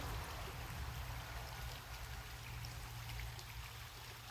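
A creek flowing beside a grove of trees, a soft steady trickling wash that stays faint and even with no talk over it.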